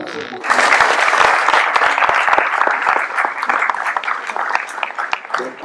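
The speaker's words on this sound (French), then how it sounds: "On peut l'applaudir." Audience applause at a town ceremony honouring local athletes in Ploërmel, loud dense clapping from a sizeable crowd that starts abruptly and thins slightly toward the end.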